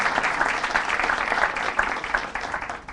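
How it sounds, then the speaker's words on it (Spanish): An audience at a Guatemalan panel discussion on drug decriminalization applauds the panel members with steady, moderately loud clapping from a fairly small crowd, lasting throughout. "para quienes pido un fuerte aplauso"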